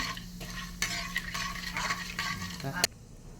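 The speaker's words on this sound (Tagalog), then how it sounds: "Iprito muna natin ang anatasis para lumabas yung kanyang kulay." Annatto seeds fry in oil, giving a soft sizzle under close scraping stirs and a few metallic clinks of a utensil against the pan, ending with a sharp knock before the sound drops away. No clear voices.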